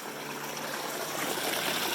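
Small streams and waterfalls trickle in the Mauritanian desert, a continuous close wash of running water that holds steady throughout.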